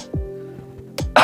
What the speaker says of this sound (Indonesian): Tuh batuk lagi ya.